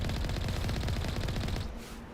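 Geth enemies in Mass Effect let off rapid automatic gunfire, loud and close, in a dense rattling burst that stops abruptly near the end and leaves a quieter tail.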